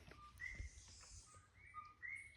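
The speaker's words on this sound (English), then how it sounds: "That's called a coqui. That's the national frog of Puerto Rico" Coqui frogs call in the Puerto Rican forest among banana trees, giving a few short, clear two-note whistles that rise in pitch. The calls are moderately faint and repeat at irregular intervals over a steady background hiss.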